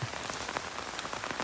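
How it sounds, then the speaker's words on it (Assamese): Rain falls heavily on a village betel nut plantation, a brief, dense and steady patter of drops with no voices. "বৰষুণটো বেছিকৈ দি আছে"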